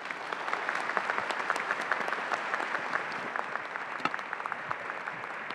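Conference audience applauding after a presentation, a dense steady burst of many hands clapping, moderately close, sustained for several seconds without talk.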